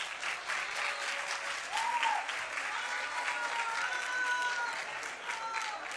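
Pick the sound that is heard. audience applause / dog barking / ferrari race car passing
audience applause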